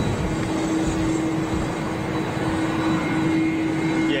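A Delta Airbus A330 jet airliner rolls on the runway at Schiphol, heard from an airport viewing terrace as a steady, distant engine roar with a faint whine running through it and no talking.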